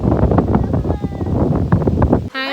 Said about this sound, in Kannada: ಗಾಳಿ ಎಳ್ಕೊಂಡು ಹೋಗ್ತಾ ಇದೆ